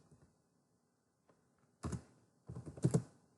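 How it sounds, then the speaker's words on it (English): Keys on a computer keyboard are struck in two short, soft clusters of taps after a quiet pause, close and faint with no talk. "we're going to type in eggs"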